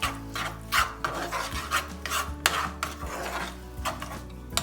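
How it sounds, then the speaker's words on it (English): Garlic, spices and Dijon mustard get stirred in a pan with a utensil, making repeated raspy scraping strokes at an uneven rhythm, close and fairly loud, with no voices. "We'll get the garlic in, Dijon mustard, and we'll give this a good stir"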